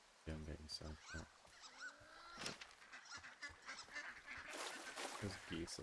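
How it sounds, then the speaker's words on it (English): Wild geese honk in Firewatch near a lake, several nasal calls in a cluster near and far, with rustling and other game sounds around them. "Those geese are wild."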